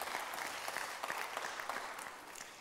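Brisk applause from a conference audience greeting an award winner on the main stage, a dense, lively patter of many hands clapping at moderate volume, heard alone for a few seconds.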